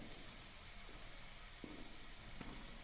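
Steady steam hiss fills a horror video game scene, a soft broadband rush that runs throughout with a couple of faint knocks, low in level and with no voices.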